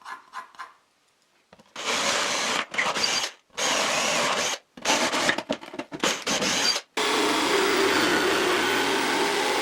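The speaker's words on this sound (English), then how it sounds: "I use the jigsaw to cut the opening." A jigsaw cuts an opening for an insert plate in a router table top, its rough buzzing rasp coming in close, loud bursts that pause briefly several times before running steadily to the end.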